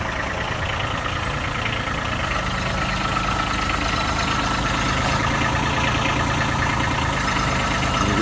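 A brand-new Kubota B2301 compact tractor idles steadily up close, a continuous low engine rumble holding an even, unbroken rhythm with no voices over it.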